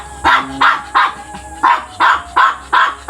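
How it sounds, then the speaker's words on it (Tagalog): A brown dog barks repeatedly at a steady pace, eight loud, close, sharp barks with no talking over them. "Yan yung alaga ni Kuya Robin na ano? Aso"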